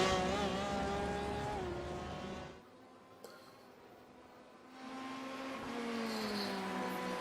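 Race cars, a small Porsche chasing a Corvette, drone along a straight at Sebring in the iRacing sim, engines steady and loud, dropping away into near quiet midway before swelling back with rising pitch.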